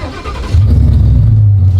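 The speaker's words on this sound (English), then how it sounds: "Push button start, works just like a normal car" A Coyote-swapped Lincoln Continental is push-button started, and its V8 catches after a brief crank and settles into a loud, steady, deep idle close by.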